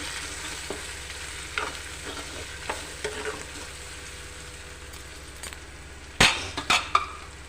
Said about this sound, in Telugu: కొద్దిసేపు నూనెలో ఫ్రై కావాలి తర్వాత మనం దీంట్లో పసుపు వేసుకున్నాం